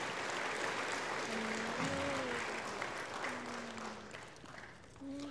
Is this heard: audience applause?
yes